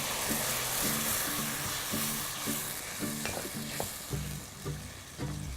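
Tomato juice hitting a hot frying pan for an Indo-Chinese eggplant dish in Szechuan ginger sauce, giving a steady close sizzle with stirring and scraping, plus light clinks and taps that repeat all the way through.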